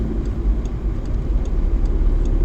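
A car cruising along a road on a sunny day, steady low engine and road rumble heard from inside the cabin, continuous and fairly loud.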